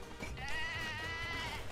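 Sheep bleating in the video game Moving Out: a single drawn-out, wavering bleat, loud and close, heard alone with no talk over it.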